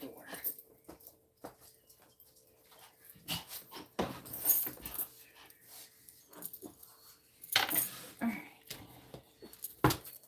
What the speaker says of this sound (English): Stop barking at people at the door.